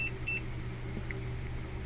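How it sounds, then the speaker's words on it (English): A multimeter continuity tester gives short electronic beeps while cable pins are probed during assembly of a Retinomax 3 PC cable, a few brief tones over a steady low hum. "You hear the beep? You know that you've gotten continuity."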